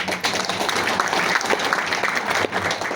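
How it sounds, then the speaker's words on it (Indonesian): Audience applause at a chamber of commerce national leadership meeting, a dense, steady wash of clapping from a large crowd lasting the full stretch without talk. "Ya, tepuk tangan dong."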